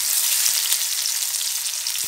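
Onion frying in hot oil in a wok gives a steady, dense sizzle throughout, with a couple of faint knocks but no voices.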